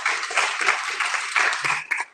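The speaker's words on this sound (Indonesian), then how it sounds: "Saudara, berikan tepuk tangan untuk Tuhan" A church congregation claps during a service, a short, uneven burst of many hands that rises and falls over about two seconds before cutting off.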